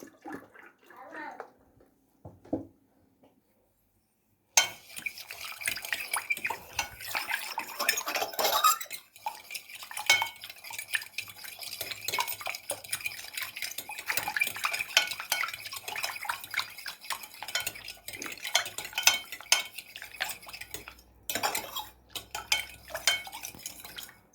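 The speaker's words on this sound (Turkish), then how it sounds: "Şeker eriyinceye kadar karıştıracağım." A spoon clinks and scrapes steadily against a pot while sugar syrup is stirred until the sugar dissolves for a layered cake, the close metallic tapping following a brief quiet start.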